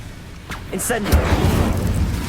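Incendio fire spell cast in Hogwarts Legacy in a ruined mine area: a sudden burst and whoosh of flame that swells into a sustained roaring crackle, with a spoken incantation just before.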